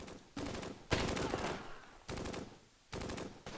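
Gunfire in the Close Combat war strategy video game, in the middle of an assault mission: sustained machine-gun bursts roar in long loud stretches broken by short lulls, with no talking.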